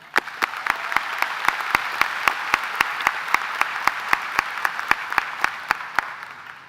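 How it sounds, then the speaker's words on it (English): Crowd applause at a high school graduation ceremony: a steady, full wash of clapping with a regular beat of sharp claps running through it for about seven seconds, with no talking over it. "So please join me as we give them a round of applause."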